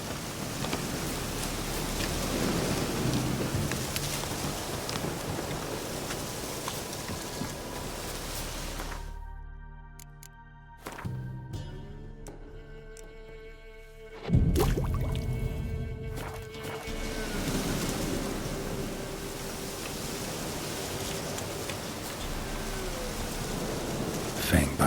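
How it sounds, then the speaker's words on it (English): Steady rain hisses in The Witcher 3 video game, with thunder rumbling through. The downpour briefly thins to near quiet in the middle before swelling back to a loud, dense wash. "Looks like rain."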